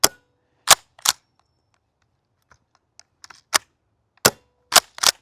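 A Golden Eagle KSG gas airsoft shotgun fires a series of sharp, loud bursts: two in quick succession, then a pause with faint mechanical clicks, then more cracks, some in close pairs.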